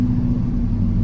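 A 2000 GMC Sierra pickup with a 5.3 V8 Vortec and a faulty transmission stuck in one gear drives with a loud, steady low engine drone and rumble, with no talking.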